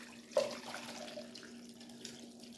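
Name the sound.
straining ginger pieces, liquid pouring off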